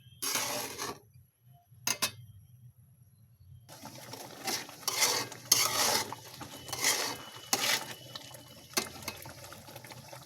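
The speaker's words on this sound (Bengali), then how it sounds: "সুজি দিয়ে দিলাম। সুজিটা রান্না করব" Semolina (suji) being stirred as it cooks in a pot for breakfast, with repeated scraping and clinking of a spoon against the metal in irregular bursts, close by, after a brief quiet pause near the start.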